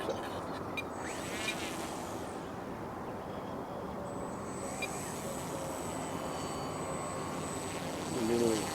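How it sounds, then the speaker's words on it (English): An E-flite Timber RC model airplane on floats taxis on water with full flaps out, its small electric propeller giving a steady, moderately distant whine and buzz over outdoor ambience, holding even throughout and swelling slightly near the end. "I'm going to taxi back around here"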